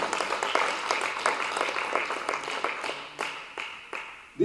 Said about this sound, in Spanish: Dele palmas fuerte al Señor.